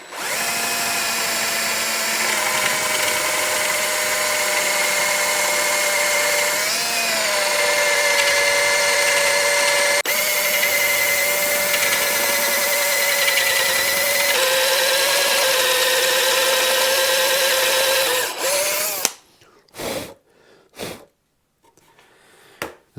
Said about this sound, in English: these Forstner bits, they work much better in a drill press where you can get a lot of downward pressure on them